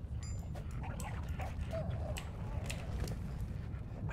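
A dog creature in the ARK: Survival Evolved video game barks and whimpers faintly in a Christmas-themed setting, with intermittent yips over a steady low rumble of background game ambience.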